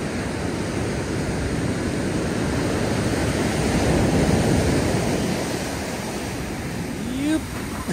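Ocean surf rolls onto a California beach as a steady, close roar of breaking waves with wind buffeting the microphone, easing slightly toward the end.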